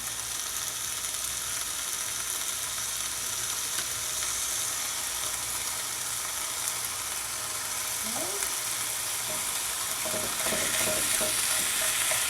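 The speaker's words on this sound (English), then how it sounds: "I don't think there's anything better than bacon, the smell of bacon frying." Bacon fries in a pan with a constant soft sizzle and crackle, steady and moderately quiet, with a few utensil scrapes and clicks toward the end.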